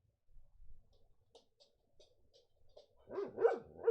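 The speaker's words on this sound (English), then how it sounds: "Piper, do you have to go to the bathroom, dog?" A pet dog gives a few faint, scattered noises indoors, then lets out three or four loud, close barks in quick succession at the end, with no talking over them.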